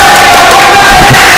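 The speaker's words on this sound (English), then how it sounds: "but the crowd is still riled up" A dense, loud roar from the crowd at a high school wrestling quad meet, with shouting and cheering merging into one steady wall of noise.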